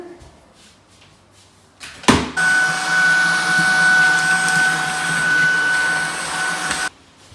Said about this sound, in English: the vacuum cleaner brings up dust